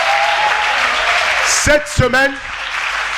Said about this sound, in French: On applaudit pour nos amis qui ont levé la main